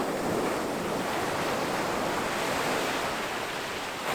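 Ocean surf rolls continuously onto Melbourne Beach, Florida, on a chilly Atlantic morning, forming a loud, steady roar of waves mixed with wind buffeting the microphone.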